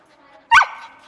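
A single sharp dog bark with a short trailing yelp rings out backstage at a Best in Show fundraiser dog show at Thomas & Mack, loud and close against a quiet background.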